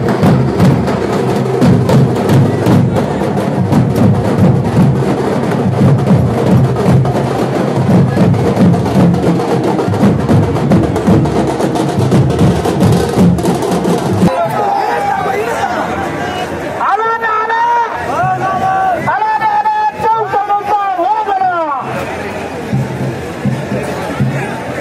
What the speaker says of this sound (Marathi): कार्यकर्त्यांनी कसा जल्लोष केलाय पाहूयात